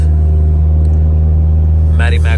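A 2002 Honda Accord with a resonator delete and aftermarket exhaust gives off a loud, steady low engine drone, with a voice speaking over it near the end.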